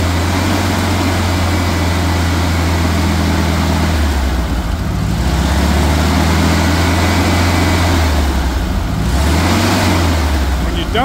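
A 1979 VW Beetle engine runs steadily, then revs up and drops back twice in smooth throttle swells, close and loud throughout.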